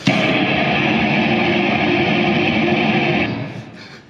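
A loud, harsh wall of dense guitar pedal noise holds steady for about three seconds, then thins out and fades away.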